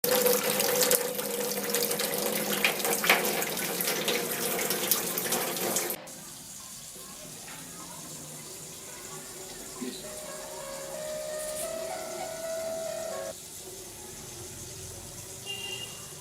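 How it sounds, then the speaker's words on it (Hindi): Water runs steadily from a tap into a sink, loud and continuous for the first six seconds, then cut back to a quieter trickle with faint background sounds. "पानी बंद कर दे यार, बह रहा है।"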